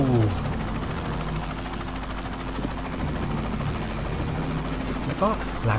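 A helicopter in the video game Dustoff Heli Rescue sets down at its base with a continuous thudding rotor and engine drone, held steady throughout, while someone talks over it.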